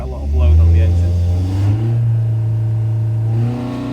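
A 1200 sand cast Hillman Imp engine with a Coventry Climax FWH experimental head and five-bearing crank revs under heavy dyno load, a steady close droning roar that rises briefly then holds, with a voice speaking over it.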